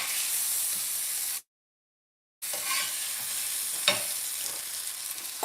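Burger patty for an In-N-Out style Dutchman burger sizzling loudly in a frying pan right after flipping, a steady close hiss that cuts out for a moment and comes back with small pops and crackles.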